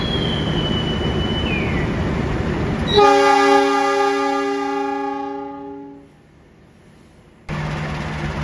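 At Madiun railway station in Indonesia, a train sounds a long, sustained horn chord that fades out, leaving a moment of near silence before the station ambience returns.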